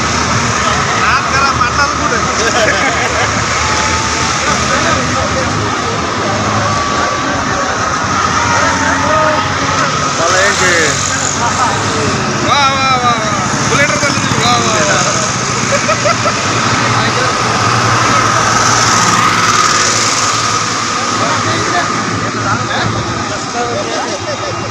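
Tractors at a rally with 250 bullock carts and 150 tractors in Chhatrapati Sambhajinagar, a loud continuous engine rumble with crowd noise and people talking over it.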